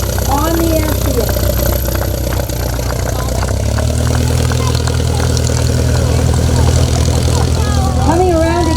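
A T-6 propeller warbird drones steadily nearby at an air show, its engine note holding constant, while an announcer talks over it throughout.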